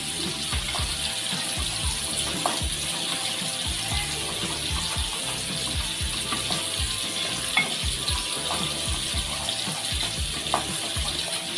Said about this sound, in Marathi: हे मसाले आपण 1-2 मिनटं परतून घेऊया.